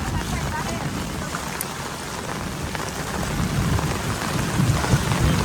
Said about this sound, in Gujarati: હા, વરસાદ પડી ગયો છે